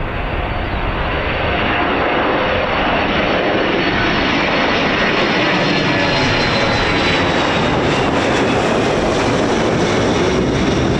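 A military aircraft at RAF Mildenhall makes a crosswind takeoff, its loud, sustained engine roar filling the air for the whole stretch and swelling slightly toward the end, with no talk over it.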